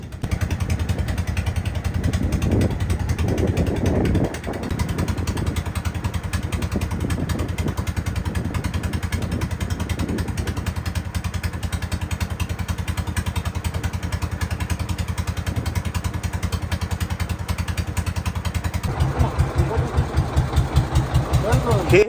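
A steady low trawler boat engine drone runs throughout on the way to the Sundarbans, with a rhythmic chugging that grows louder near the end, and people talk over it at times.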